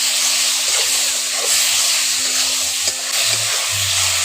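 Ridge gourd sautéing in a pan with red chilli and turmeric powder, a steady close sizzle and hiss with occasional stirring scrapes, without talk.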